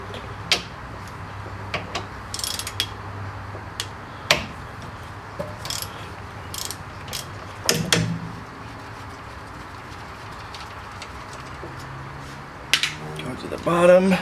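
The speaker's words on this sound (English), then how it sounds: "Now we're going to remove the caliper." Removing the brake caliper from a 2011-2015 Hyundai Elantra brings scattered metallic clinks, taps and tool clatter, mostly sparse and fairly quiet with a busier burst near the end.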